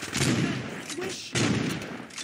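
Gunfire in Saints Row 2, a dense stretch of rapid shots with two louder bursts, close and continuous, over busy game noise with some voices mixed in.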